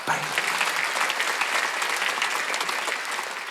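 Church congregation at a Sunday worship service bursts into sustained applause, a dense, steady wash of clapping from many hands filling the room for several seconds.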